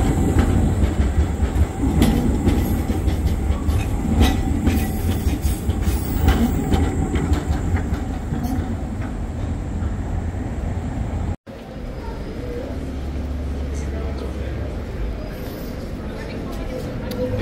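An old-fashioned historical tram passes along a street in Prague, a loud, steady rumble of wheels on rails with clicking joints and faint squeals, continuing close by for the whole stretch with a brief break midway.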